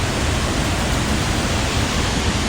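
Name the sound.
waterfall falling water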